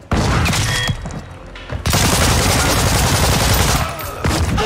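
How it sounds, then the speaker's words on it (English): Dense automatic gunfire and bursts from a Call of Duty: Modern Warfare II multiplayer match, loud and sustained, with a brief lull in the middle before the firing resumes heavily. "Why is he shooting at me now for?"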